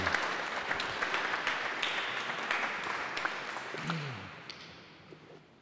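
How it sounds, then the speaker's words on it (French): An audience at a French-language talk or question session claps together, a steady wash of moderate applause that slowly fades toward the end, with a few faint sounds mixed in. "Alors, osons applaudir."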